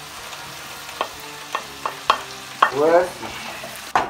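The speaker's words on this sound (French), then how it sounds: "Du poivre, et on fait revenir tout ça bien chaudement" Onions, mushrooms and pepper sautéing over high heat for coq au vin, with a spoon stirring in sharp separate scrapes and bursts of sizzle at a steady pace; a voice speaks briefly.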